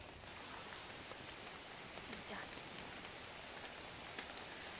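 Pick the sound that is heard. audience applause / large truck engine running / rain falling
rain falling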